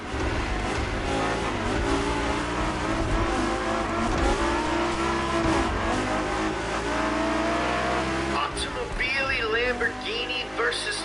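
Lamborghini and Ferrari supercar engines revving in the racing game The Crew Motorfest, a sustained loud engine roar with rising and falling pitch, then sharper revving surges near the end, with a voice talking over it.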